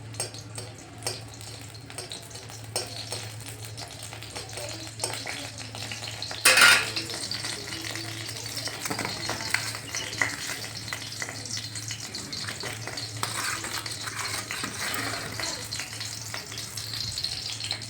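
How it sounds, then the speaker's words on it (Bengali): Dry chillies and panch phoron fry in a little oil with a steady, moderate sizzle, broken once by a sharp metallic clatter of a utensil against the pan. "একটু অল্প তেল দিয়ে একটুখানি শুকনো লঙ্কা আর পাঁচ ফোড়ন দিয়ে টকটাকে বানিয়ে নেব"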